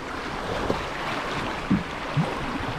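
Lively river waves on the Skawa splash around a kayak, a steady watery wash with wind buffeting the microphone and a few brief slaps of water against the hull.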